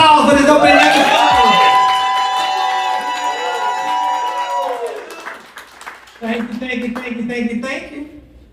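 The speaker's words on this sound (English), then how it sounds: "Let's get a thunder round of applause for this opening episode." Audience at a podcast launch event applauds and cheers, with whoops and clapping swelling loudly under a speaking voice and music, then fading to scattered claps as talk continues.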